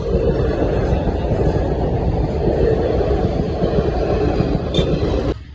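A train rumbles loud and close past a closed railway level crossing, its heavy rolling roar steady and unbroken before cutting off abruptly near the end.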